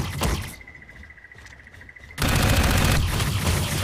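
Gunfire in the Dark Void video game on Xbox 360: after a quieter stretch with a steady tone, a loud, dense burst of rapid shots erupts and keeps rattling without a break.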